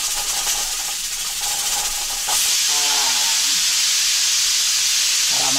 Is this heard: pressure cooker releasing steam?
yes